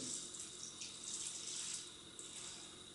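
Water poured from a vessel into a pot of cranberries while making homemade cranberry sauce, a steady splashing stream running for about three seconds, fairly quiet and with no talking over it.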